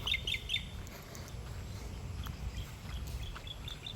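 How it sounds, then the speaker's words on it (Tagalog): Faint birdsong in a quiet rural province: a few thin, high chirps near the start and scattered calls later, heard distantly over a low background hum. "Mayroon pang ibon na kumakanta."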